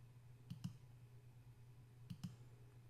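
Two quiet double clicks of a computer mouse on a right arrow in medical practice management software, spaced about one and a half seconds apart over a soft electrical hum, with no voices.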